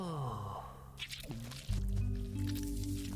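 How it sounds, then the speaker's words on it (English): Wet dripping and squishing sounds from a horror video game play over low droning tones, with a heavier, louder layer entering partway through. "Oh, dripping."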